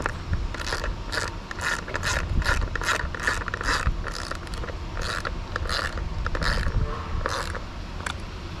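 Roof rack fixings being tightened by hand on a Land Rover Discovery 5, a steady run of quick ratcheting clicks in bursts over a low mechanical hum, close and moderately loud.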